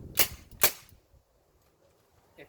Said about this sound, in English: you're gonna want to shoot it a couple of times.